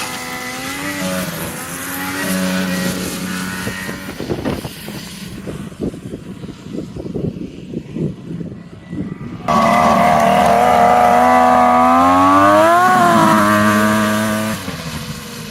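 A loud turbocharged Polaris triple 650 snowmobile engine, running very lean, revs and roars with rising and falling pitch, cutting down briefly to a rough sputtering idle before surging back up.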